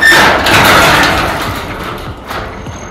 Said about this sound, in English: garage door finally put up there, and it works nice